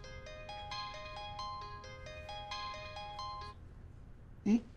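A mobile phone ringtone plays a repeating melodic tune of bright stepped notes for several seconds, then stops, followed by a brief burst of a voice.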